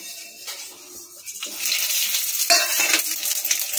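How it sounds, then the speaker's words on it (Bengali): Half a bay leaf with fennel, mustard seeds, radhuni and a pinch of asafoetida tempering in hot oil for shukto: a soft hiss that swells into a brighter, louder sizzle, with faint scraping. "ফোড়নটা ভাজা হয়ে গেছে।"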